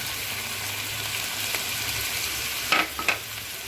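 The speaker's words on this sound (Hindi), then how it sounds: "चिकन को हमने मज़ीद 2 से 3 मिनट तक भून लिया है" Chicken for a pea curry sautés in a hot pan, giving a steady, close sizzle with a couple of brief scraping stirs near the end.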